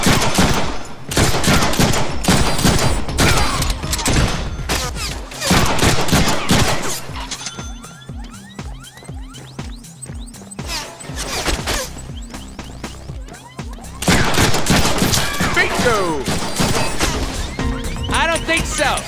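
Video game gunfire in Deadpool, dense rapid volleys of shots in long bursts with a quieter stretch in the middle, loud and close, mixed with game voices and crashes.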